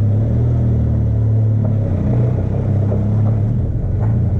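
A Benelli TRK 502 X motorcycle fitted with a 15-tooth front sprocket pulls away slowly in first gear through a historic area, its engine a steady, close, low droning rumble that holds even throughout, with no voices.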